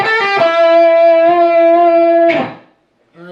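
An electric guitar plays a sustained, bent lead lick in the style of a band's solo, heard alone and loud with a bright distorted tone, one long held note ringing before stopping abruptly, then a brief new note at the end.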